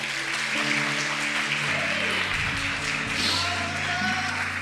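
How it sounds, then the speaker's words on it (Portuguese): Audience applause in a church or ministry setting, a steady wash of clapping over the full length with a low hum of sustained music or tones underneath. "Palmas para o Davi, gente"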